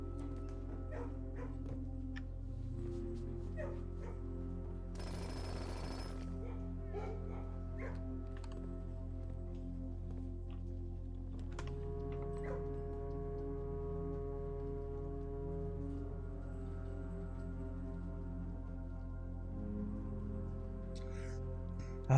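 A dog whimpers and gives a few barks inside the video game Blue Prince, set against continuous game music, with a brief noisy burst partway through.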